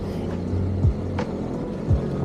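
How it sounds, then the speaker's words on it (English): KTM motorcycles on a group ride through mountain roads with green hillsides, their engines a steady low drone with a couple of brief rising passes. "the sound of engines echoing through the mountains"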